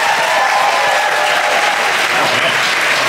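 A large audience aboard the JoCo Cruise 2022 show fills the room with dense, loud, continuous applause that holds steady throughout.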